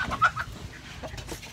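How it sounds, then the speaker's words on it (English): Soft chicken clucks in a short burst near the start, then quieter scattered bird calls over low background noise. "My chickens."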